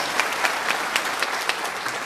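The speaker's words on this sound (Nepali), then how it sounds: "जो हुनुहुन्छ त्रिपल डायमन्ड डाक्टर रन्दामजीलाई पनि जोरदार ताली स्वागत गर्नुहोला कृपया" A seminar audience in Dubai applauds a welcome, producing a short burst of dense crowd clapping with a few sharper claps standing out, and no voices over it.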